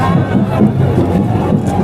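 A dense crowd gathered for Prime Minister Modi's inauguration of Purnea airport in Bihar, with a loud, continuous murmur of many voices and scattered shouts close around.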